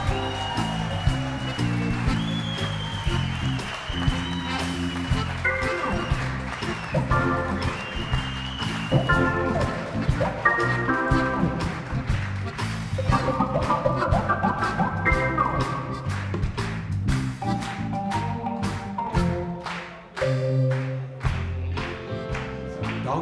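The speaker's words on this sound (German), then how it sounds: "Ein riesen Applaus." An audience at a Swiss stage show claps steadily for over twenty seconds, a dense, even wash of applause that carries on under music.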